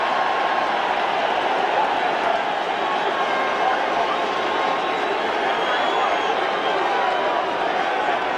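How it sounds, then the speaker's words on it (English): A large stadium crowd at the 1985 NFC Championship between the Chicago Bears and Los Angeles Rams roars and applauds the Bears defense in a steady, dense wash of noise that holds loud and unbroken throughout. "Listen to the applause for the Bear defense."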